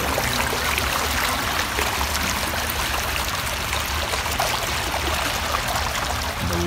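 Water rushes and splashes continuously through a broken dike in a lab experiment, a steady broad hiss of flowing water close by with no voices.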